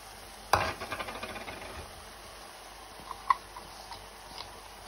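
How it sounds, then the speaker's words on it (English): A spoon stirs carrots and mushrooms into a simmering bolognese sauce, giving one sharp scrape followed by soft quiet bubbling and a single light tick against the pan, all fairly faint. "we stir in the carrots and the mushrooms"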